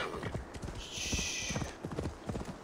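Rhythmic hoofbeats of a galloping horse in Assassin's Creed Valhalla, steady clip-clop close up over a bright sustained game tone, with no talking.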